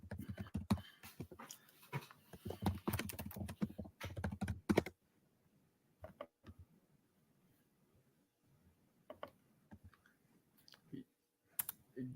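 Fast bursts of computer keyboard typing clatter close up for several seconds, then thin out into sparse, faint keystrokes and clicks in a quiet room.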